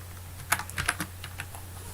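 Quick bursts of keystrokes on a computer keyboard while number values are typed into a spreadsheet, a handful of close clicks clustered in the middle of a steady low hum, with no talking.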